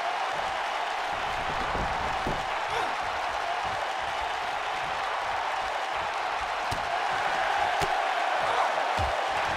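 Steady roar of a wrestling arena crowd in a WWE 2K video game, a dense, even din of cheering with faint voices underneath, continuous throughout.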